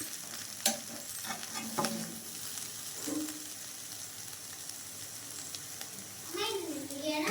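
Egg poriyal, an egg stir-fry, sizzles in a pan with a steady frying hiss and repeated clinking spatula strokes, while a faint voice murmurs in the background.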